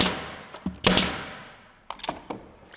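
Nail gun firing into wood while feet are attached to a milled piece, a couple of sharp loud bangs early and a quicker cluster of three shots near the end, close and alone.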